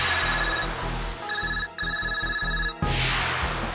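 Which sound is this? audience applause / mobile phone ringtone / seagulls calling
mobile phone ringtone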